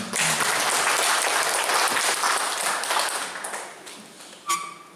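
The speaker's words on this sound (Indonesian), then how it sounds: "Boleh lagi kita tepuk tangan." An audience claps at a cooperative's annual meeting, a full burst of applause that holds for about three seconds, then thins and tapers away, ending with a single sharp tap.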